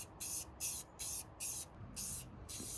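Gloss clear coat sprayed onto a car shifter console insert in six steady bursts of about a third of a second each, evenly spaced and close, with short pauses between them and no talking.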